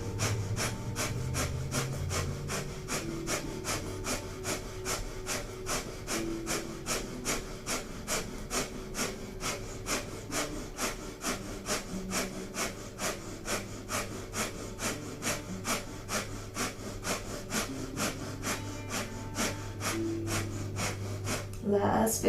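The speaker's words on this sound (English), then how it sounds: "begin breath of fire, panting like a dog through the nose" Rapid rhythmic nasal panting of kundalini yoga breath of fire, with quick sharp exhalations pulsing evenly through the nose for the whole stretch, close and steady, over faint background tones.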